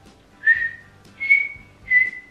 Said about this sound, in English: Look at that, I can't even whistle.